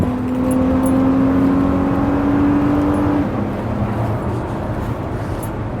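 Car interior on the road while driving, with a steady low engine hum and road rumble holding throughout, plus a faint rising whine early on; no talking.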